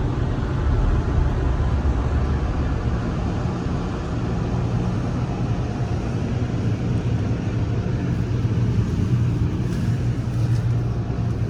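Car wash machinery runs loudly and continuously around a Tesla at an automatic car wash, a steady low rumble and rush with no breaks and no voices.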